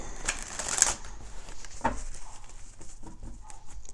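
Tarot cards shuffled by hand during a reading, giving soft, quiet rustles with a brief louder riffle burst near the start and faint scattered flicks after, low in level with no talk.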